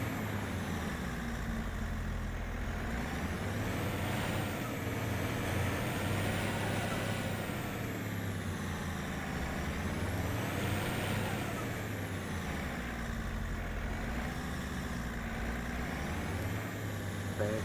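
Tractor in Farming Simulator reversing toward a trailer, a continuous loud engine drone rising and falling in pitch as it throttles, steady and close for the whole stretch.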